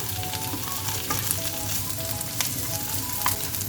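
Mashed potato stirred into ginger and green chili frying in a pan, a steady close sizzle with soft scraping strokes of a spoon and a few sharper clicks, no voices.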